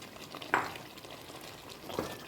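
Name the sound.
stirring mutton curry with fried potatoes in pan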